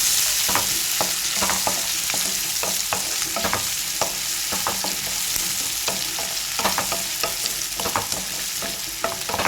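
Ivy gourd fry sizzles steadily in a pan while a spoon stirs it in repeated scraping strokes, close and continuous, with no talking.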